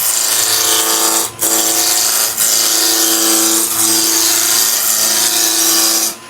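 A wood lathe spinning at 1600 rpm while a raised bowl blank is roughed round, giving a steady loud whir with harmonic hum, interrupted by a few sharp bursts and brief dips as the tool touches the wood.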